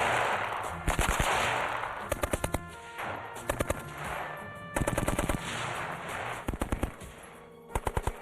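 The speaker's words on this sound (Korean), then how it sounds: "연속 발사가 길어지면 과열로 인해 총신이 변형되고 정확도도 떨어지죠." A machine gun with a rotating ammunition feed fires repeated short, loud bursts of rapid cracking shots, separated by brief gaps filled with a steady background hum.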